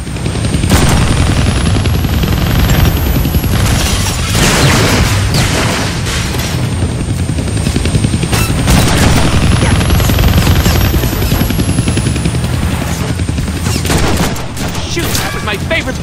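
Heavy gunfire in the Deadpool video game fired at a helicopter, loud bursts of shots and booms over the continuous rotor drone of the chopper, with no speech.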